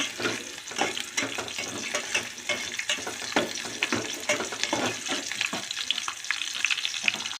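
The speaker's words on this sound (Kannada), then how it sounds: "ಈರುಳ್ಳಿನ ಹಾಕ್ತಾಯಿದ್ದೀನಿ. ಸ್ವಲ್ಪ ಫ್ರೈ ಮಾಡ್ಕೊಳ್ಳಿ." Chopped onions and green chillies fry in hot oil for a seasoning, giving a steady, close sizzle and crackle with faint stirring throughout and no talking.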